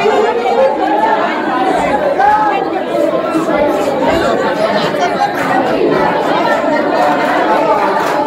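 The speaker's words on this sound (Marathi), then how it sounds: "खूप गर्दी आहे." A large crowd packs Ekvira temple, many voices chattering at once in a steady, dense murmur that fills the whole stretch without pause.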